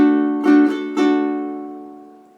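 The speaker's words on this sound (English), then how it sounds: "and then finish off the island strum." Ukulele strung with a low G, finishing an island strum: a ringing chord struck a few times in quick succession, then left to decay, close and clear with nothing else audible.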